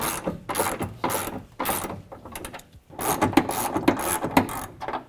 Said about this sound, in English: a ratchet with a 13mm deep well socket to get over the stud